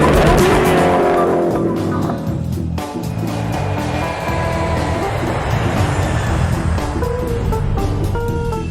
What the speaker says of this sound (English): drive their Agera R to the limit on the racetrack and on their own private runway